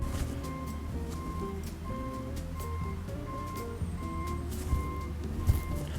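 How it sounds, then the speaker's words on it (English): A garbage truck backing up sounds a steady, evenly spaced series of reversing beeps over a low engine rumble, moderately distant and continuous throughout. "Garbage trucks, when they show up and they have to back up, and they have that backup noise sound horn."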